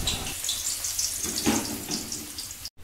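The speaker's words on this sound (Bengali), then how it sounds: "এবার আলুগুলো হালকা করে ভেজে নেব।" Potatoes fry in oil in a wok with a steady, close hiss and crackle, a constant bright sizzle that briefly cuts out near the end.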